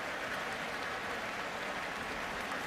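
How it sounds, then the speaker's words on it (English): A stadium crowd at a Michigan college football game against Maryland applauds linebacker Mike McCray, a dense, steady wash of distant clapping and cheering that fills the whole moment without a break. "The applause for Mike McCray."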